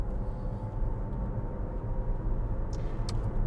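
Inside the cabin of a Lexus RZ300e electric car on the move, a faint, steady low rumble of road and tire noise from the floor, with no speech.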